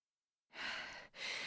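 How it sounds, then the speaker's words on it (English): A storyteller performs heavy breathing, two long, loud breathy exhalations alone after a moment of silence, like a sigh or a gasping whirlwind in a winter blizzard tale. "breathing heavily."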